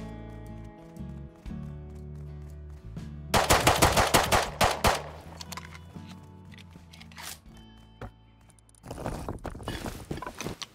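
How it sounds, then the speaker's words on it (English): Gunfire in the survival game Rust: bursts of rapid shots, loud and close around the middle, then quieter scattered shots and a final dense volley near the end, over a low ambient game hum. "Because people heard the gunshots and he might come over."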